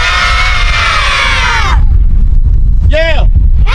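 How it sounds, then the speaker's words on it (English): Children at a T-ball practice on a baseball field shout together in a loud, sustained crowd yell that cuts off abruptly, followed by a brief pause and a single short higher-pitched shout. "So I want everybody to yell real quick and see how."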